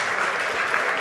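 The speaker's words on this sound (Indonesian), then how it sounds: "Tepuk tangan buat Mendagri kita." Audience applause for the Minister of Home Affairs at an official gathering, a dense, steady burst of many hands clapping together, loud and brief.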